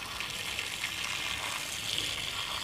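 Water pours and splashes off a candle set on a hot tava, a steady close gush running through the whole stretch without pause.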